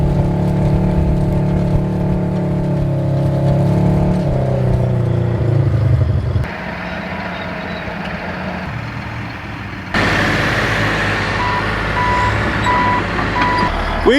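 A Cat D8 bulldozer's diesel engine rumbles steadily while the machine drives across a farm field, loud and continuous with a shift in tone partway through and a reversing beep near the end.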